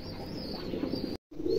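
A pair of pigeons coos softly in a loft, with low, rolling murmurs close by, then a brief drop to silence before the cooing resumes.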